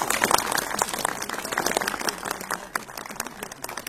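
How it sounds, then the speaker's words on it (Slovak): A crowd at a ceremony handing over a fire truck in Lišov applauds the local volunteer firefighters, with lively, dense clapping that is strongest at first and then gradually thins out. "jeden veľký potlesk pre našich lišovských hasičov"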